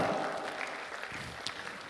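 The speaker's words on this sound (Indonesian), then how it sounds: "Boleh kita berikan tepuk tangan untuk Faisal?" An audience at a graduation ceremony claps in moderate applause, a dense patter of hands heard from a distance that fades slightly, with faint voices mixed in.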